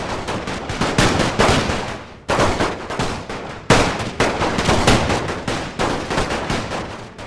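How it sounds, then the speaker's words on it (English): Rapid bursts of video-game gunfire as troops return fire in a Russian Revolution battle from The Great War, loud and near, with dense, repeated volleys running almost continuously and one brief lull partway through. "Oh, they're returning fire now."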